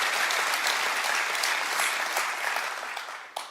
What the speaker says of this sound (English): y'all clapping